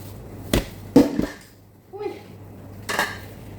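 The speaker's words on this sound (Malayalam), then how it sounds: "നിങ്ങൾ കാണുന്നുണ്ട് ഞാൻ കുക്കറിൽ തട്ടുന്നത്." A pressure cooker tapped by hand, a few close metallic knocks and clanks spaced apart, with a brief faint voice in between.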